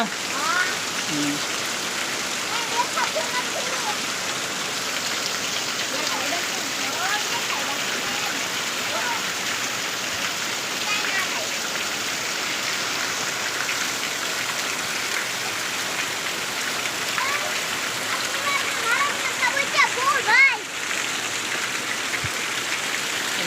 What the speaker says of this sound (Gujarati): તો આપણે ફૂલ વરસાદ ચાલુ થઈ ગયો